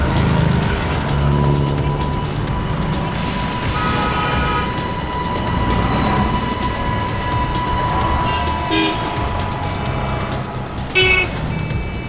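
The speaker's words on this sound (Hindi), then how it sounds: "लगता है यही गाड़ी है सफेद वाली" White car arriving on a busy road, with traffic hum, passing vehicles and a few short horn toots, steady and moderately loud.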